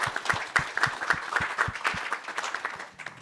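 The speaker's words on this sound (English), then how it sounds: "Just give a round of applause for our panelists" Conference audience applauding panelists at a financial markets index launch: a steady patter of many hands clapping, fairly near and uneven in density, with no voices over it.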